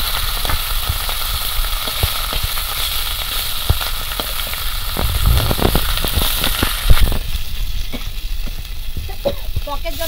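Fish, likely hilsa, sliding into hot mustard oil tempered with panch phoron and a dried red chilli, a loud, steady close-up sizzle with sharp crackling pops throughout and a brief louder spatter partway through.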